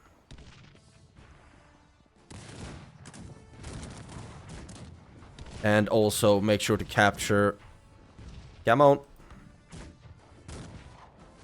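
Cannon and musket fire in the Cossacks 3 strategy game, a cluster of loud, rapid blasts in the middle with another sharp burst shortly after, while someone talks over the action.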